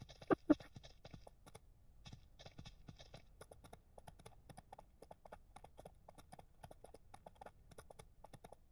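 Hooves of a horse clip-clop in Ranch Simulator, a soft, steady patter of light taps, faint and fairly distant, with a couple of louder knocks near the start.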